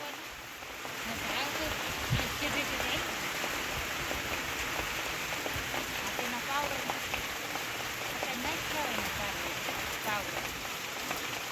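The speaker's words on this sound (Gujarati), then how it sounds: "જો વરસાદ બહુ આવ્યો।" Heavy rain pours steadily with a dense, constant hiss and patter, unbroken for the whole stretch.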